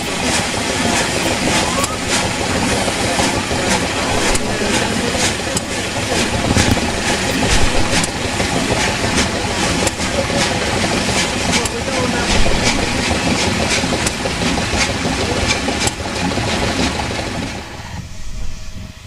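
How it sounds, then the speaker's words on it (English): Bulleid Pacific steam locomotive Wadebridge hauls its train out of a station, a loud, steady roar of exhaust and hiss with rhythmic rail clatter running throughout, easing slightly at the very end. "Wadebridge and its train makes a majestic way out of the station"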